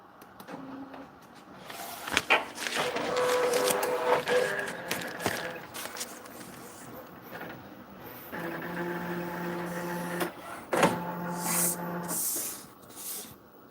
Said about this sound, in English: So let's do a nozzle check and see how this